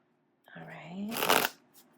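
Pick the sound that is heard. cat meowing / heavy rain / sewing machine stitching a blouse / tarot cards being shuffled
tarot cards being shuffled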